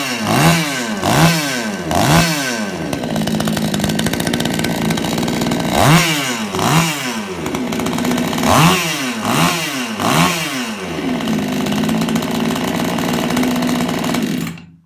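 Vityaz BP-45 gasoline chainsaw after a crankshaft replacement, engine running and being adjusted, with a steady buzzing drone broken by repeated revving bursts, loud and close with no talk.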